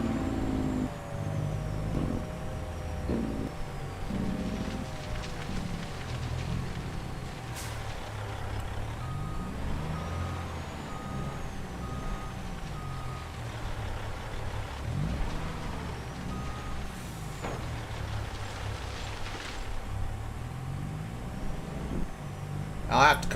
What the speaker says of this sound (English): Truck sounds good too.